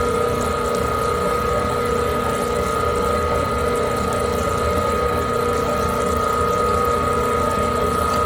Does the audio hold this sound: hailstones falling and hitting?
no